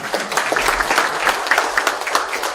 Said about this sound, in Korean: 오늘 말씀해 주신 우리 5분께 다시 한번 감사의 박수 부탁드릴까요?